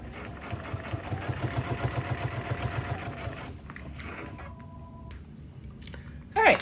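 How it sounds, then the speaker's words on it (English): A sewing machine with a digital dual feed walking foot stitches a quilting row, running at a fast, steady rhythmic chatter for several seconds before settling into a quieter hum, ending with a brief thump. "I am going to begin my first row of stitching"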